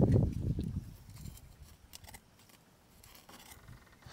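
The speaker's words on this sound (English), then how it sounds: "You can use scissors to cut it." Scissors snipping through a coconut coir sheet, faint crisp cuts with a louder rustle at the start, then soft scattered snips nearby.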